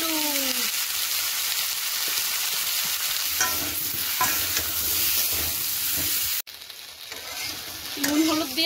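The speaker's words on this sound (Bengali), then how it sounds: "নুন হলুদ দিয়ে আমি সবজিগুলোকে ভালো করে একটু একটু করে ভেজে নেওয়ার পরে দিয়ে দেবো জল।" Vegetables seasoned with salt and turmeric fry in a hot pan, a steady loud sizzle with stirring scrapes throughout, briefly cut off near the end before the frying noise returns.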